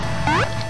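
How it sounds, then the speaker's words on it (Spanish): A water drop sound effect from the DOS version of Mega Man 3: a single short, bright rising chirp over a steady buzzing game background. "Una gota suena así."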